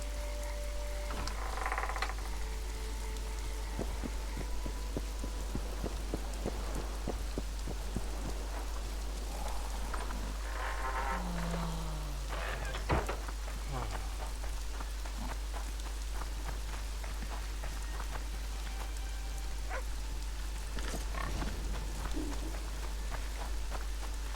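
Steady rain in The Witcher 2: Assassins of Kings patters over a constant low hum, with occasional scattered taps, clicks and brief tonal effects layered over the downpour.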